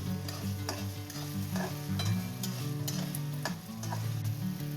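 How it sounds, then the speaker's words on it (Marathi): Ground masala paste is stir-fried in a pan with a busy, close sizzle and repeated scraping strokes of a spatula, steady throughout with no voices. "तर मस्त वाटण परतून घेऊया आपण."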